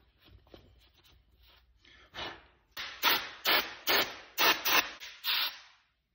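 Hand sanding on a carved wooden Welsh love spoon: soft scratchy rubs at first, then seven loud, even strokes in a steady back-and-forth rhythm, close up, with no talking.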